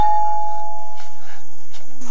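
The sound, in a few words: doorbell ringing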